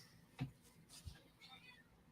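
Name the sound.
cat meowing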